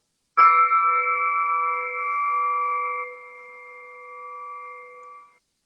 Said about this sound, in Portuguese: ele quer tocar um sino pra gente antes da gente começar